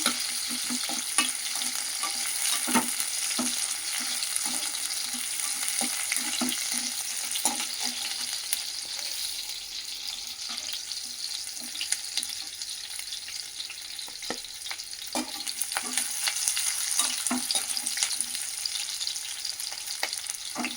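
Onions fry in oil with a continuous soft sizzle and crackle. Frequent light taps and scrapes of stirring come through, fairly quiet and close.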